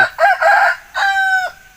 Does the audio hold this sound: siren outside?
no